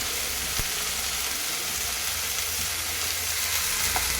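A loud, steady sizzle of fresh peas frying with fenugreek leaves in a pan, close and continuous throughout with no talking.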